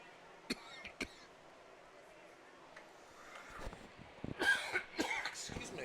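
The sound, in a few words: cough from a sports commentator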